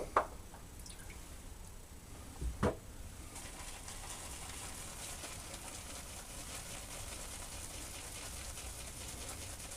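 Water dripping onto Klar shaving soap and a silver tip badger brush, a couple of close wet drips and squishes followed by a soft steady trickle, quiet with no speech.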